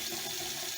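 Water from a repaired bathroom sink drains steadily, a continuous close rushing and gurgling wash that holds an even level for the whole short stretch with no talk over it.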